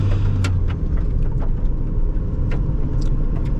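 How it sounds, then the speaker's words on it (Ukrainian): The plain engine of a Nissan Micra, without variable valve timing or hydraulic lifters, runs at a steady rumble from inside the car, with a few faint clicks and no talk over it. "Звичайний мотор без фазорегуляторів, без гідрокомпенсаторів, без нічого."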